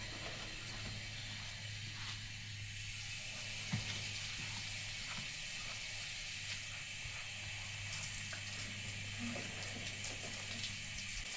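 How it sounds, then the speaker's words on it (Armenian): Water from a tap opened gently, since it runs very strong, a steady hissing flow lasting throughout with a constant low hum and occasional faint clicks, no talking. "Կամաց եմ բացել ջուրը, շատ ուժեղ է"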